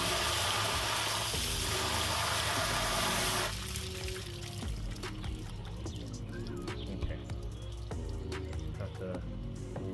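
Water pours and trickles while soil is rinsed from the roots of a cactus being repotted, a steady wash that grows busier with drips and splashes partway through.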